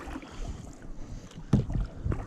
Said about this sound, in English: I'm doing some backwards rowing.